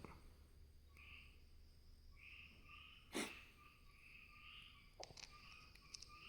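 Frogs croak faintly at night, alongside a constant chorus of insects, with one sharp nearby crack partway through and a few light clicks near the end.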